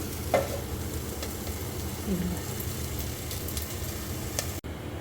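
Ivy gourd sautéing in a covered pan over a low flame gives off a steady, soft sizzle and hiss, with a couple of light stirring clinks, close by and even throughout.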